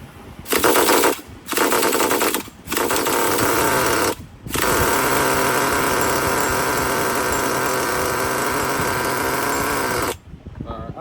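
Nitro RC car engine with pinched sleeves, buzzing in short loud revving bursts with gaps, then running steadily for several seconds before cutting off.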